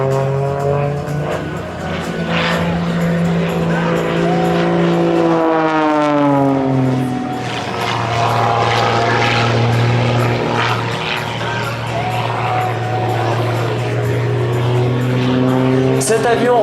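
An Extra 330 SC aerobatic propeller airplane engine drones steadily at an air show, its pitch sweeping up and down as the aircraft maneuvers; a voice talks over the constant roar.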